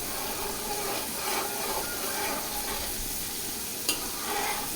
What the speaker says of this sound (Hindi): साथ हमने चम्मच चलाते जाना है, ध्यान रखना है कि प्याज जले ना।